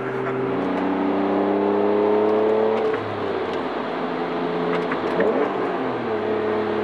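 A stock-flywheel car engine revs up and settles with sharp, responsive throttle, the rising and falling engine tone heard close and loud from inside the car, with no talking.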